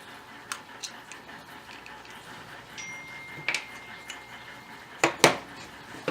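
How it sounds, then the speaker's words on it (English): Removing the grip panel from a 1911 pistol on a bench, faint scrapes and light ticks building to a few sharp metallic clicks and clacks near the end, close and quiet. "We'll flip it over and remove the right side grip panel."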